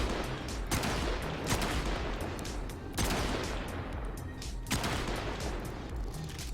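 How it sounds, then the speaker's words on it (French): Rapid sniper rifle fire in the Warframe shooter game, with several sharp cracks spaced a second or two apart over a dense, noisy combat backdrop, loud and close, without voices. "Une fois que vous êtes à distance, vous pouvez enchaîner très rapidement les tirs."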